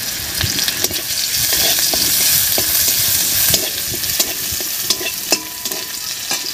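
Minced garlic and slit green chillies fry in oil in a wok for a village-style leafy greens dish, a steady loud sizzle with scattered crackles and light stirring clicks, no talk.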